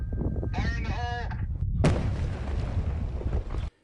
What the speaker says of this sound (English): Impressive work by crews blasting a rock slide along the 78 near Ramona.